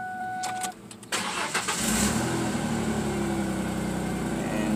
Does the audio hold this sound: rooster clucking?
no